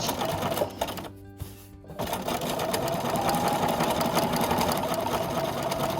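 A sewing machine stitches a quilt block, running with a loud, fast, steady mechanical whir and needle chatter that briefly stops and then resumes continuously at close range.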